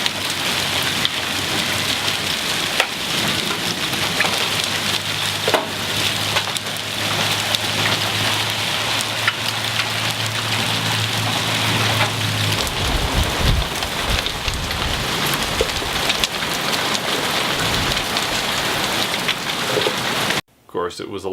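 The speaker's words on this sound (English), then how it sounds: "There was also a pretty good hailstorm." A hailstorm pelts down in Alberta, a dense, loud, continuous patter and roar of ice striking surfaces, with a low thunder rumble underneath for the first half before it cuts off abruptly at the end.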